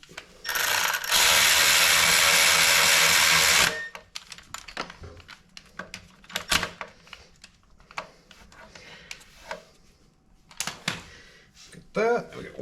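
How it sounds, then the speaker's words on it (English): A right angle ratchet wrench clicks in quick rapid bursts while working on a blown VQ engine in a garage, loud and close, with intermittent tool knocks and clatter afterward. "I get the right angle ratchet wrench because, you know, sometimes you need it."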